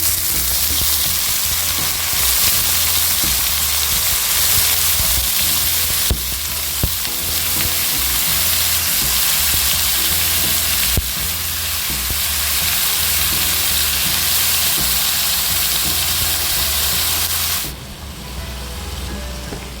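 Yam flower and onion fry in a pan, giving a loud, dense, continuous sizzle with occasional stirring scrapes that eases off slightly near the end, and no one talks.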